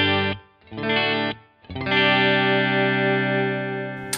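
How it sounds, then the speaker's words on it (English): Electric guitar played straight into Logic Pro's default clean amp setting, a few sustained chords ringing out, the last one held long, clear and close with a light shimmering effect. "I'm running this right to my computer into Logic Pro in the default amp, clean amp setting, which sounds like so."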